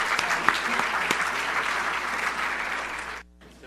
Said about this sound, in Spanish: Este aplauso fue de las mujeres.